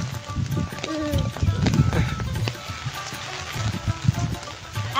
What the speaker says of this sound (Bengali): বৃষ্টিটা এত জোরে আইতেছে হিসাব ছাড়া।